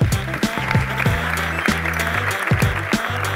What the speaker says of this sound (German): um einen herzlichen Applaus